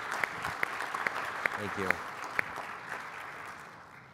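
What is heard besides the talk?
audience applause for the panelists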